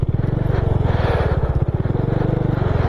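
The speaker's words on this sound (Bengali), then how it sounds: "আগে বাইকটা একদম সামনাসামনি নিয়ে গিয়ে রাখি।" A motorcycle is ridden up toward Gurudongmar Lake in Sikkim; its engine putters loud and close with a fast, even thumping rhythm that holds steady the whole time.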